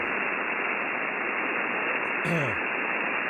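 Steady broadband hiss and static of ham radio band noise on the 10 meter band, a continuous loud wash filling the clip, with a brief sweeping tone near the end.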